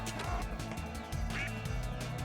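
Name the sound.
duck quacking in a video game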